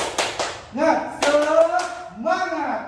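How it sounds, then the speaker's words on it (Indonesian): A school class of seventh graders doing the 'tepuk semangat' clapping routine, a few quick sharp claps followed by children's voices chanting together, with claps and shouts alternating in short bursts. "Ice breaking pada hari ini adalah kita tepuk semangat."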